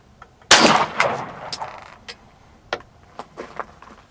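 A single sharp, loud pistol shot from a Sig Sauer P210 fired from a Ransom Rest during an accuracy test, ringing out briefly, then followed by a few lighter metallic clicks and clinks.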